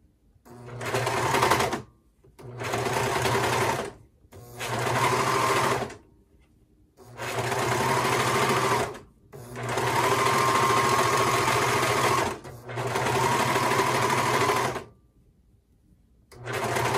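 A serger runs in six bursts of about two seconds each, stitching cardigan knit fabric with a lace overlay. The close, loud, fast mechanical whirr is separated by short silent pauses.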